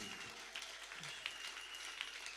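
Applause of acclamation from the audience at a leaders' conference luncheon, a soft, even patter of clapping from a distance with a faint tone running through it.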